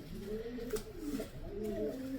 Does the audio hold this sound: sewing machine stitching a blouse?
no